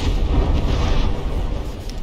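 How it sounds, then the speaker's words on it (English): Rumbling explosions aboard a battleship in the naval combat game From the Depths, a dense continuous low boom with crackling debris, loud and steady for about two seconds with no talk. "that was just the explosion graphic going through"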